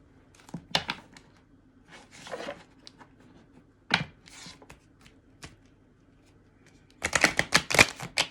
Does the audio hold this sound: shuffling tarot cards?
yes